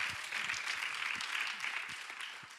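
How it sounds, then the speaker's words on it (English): An audience gives a round of applause at a climate and sustainability assembly, steady dense clapping filling the room at moderate level throughout. "round of applause"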